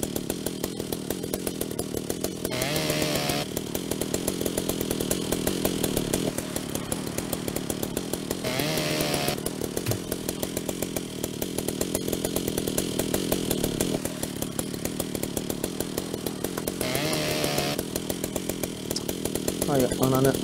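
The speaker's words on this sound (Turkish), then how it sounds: "Çek hızarı. Hadi bakalım." A chainsaw in Ship Graveyard Simulator drones steadily through repeated cuts while dismantling a ship, with short higher-pitched bursts every few seconds and a voice talking over it throughout.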